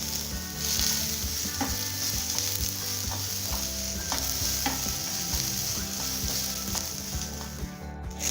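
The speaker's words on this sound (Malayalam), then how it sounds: "നമുക്കിനി ഇതിലേക്ക് കറിവേപ്പില ഇട്ട് നന്നായിട്ടൊന്ന് മിക്സ് ചെയ്ത് കൊടുക്കാം." Chicken pirupira with curry leaves stirred in a hot pan, a steady loud sizzle of frying with repeated scraping and clacking of the spoon against the pan, no voices.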